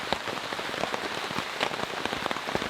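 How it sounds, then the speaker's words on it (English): Heavy rain pours onto a large Japanese-style camping tent during an intense storm, a dense, steady drumming of countless drops with no pauses, close and enveloping. "It is pouring out there, everyone."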